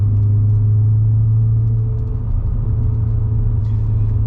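Deep, steady rumble of a 2005 Pontiac GTO's LS2 V8 engine, loud and close, a continuous low idle-like drone with slight variation midway and no speech over it.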